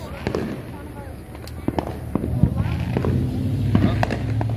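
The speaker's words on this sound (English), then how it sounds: "Battle of the fireworks." Fourth of July fireworks from a Texas City display crack and pop in scattered sharp bursts over a rumbling background, while people talk nearby.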